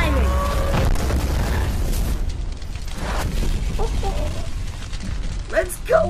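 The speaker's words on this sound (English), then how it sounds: "that shot with Rodan and the explosion" An explosion in a Godzilla vs Destoroyah animation with Rodan, a loud deep boom rumbling at the start and fading into rough low noise, with scattered mechanical clanks and a few brief tonal effects later.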